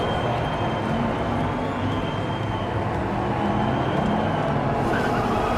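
Diecast toy racing cars roll down a race track in a continuous dense rolling rumble that holds steady throughout, with no voices over it.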